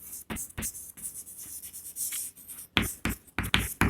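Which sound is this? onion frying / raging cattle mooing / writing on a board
writing on a board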